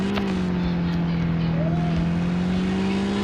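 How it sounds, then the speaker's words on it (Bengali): A racing car's engine in a car showroom video game holds a steady, droning hum at close range, with only slight shifts in pitch. "দেখতে পাচ্ছেন এটা একটা রেসিং কার।"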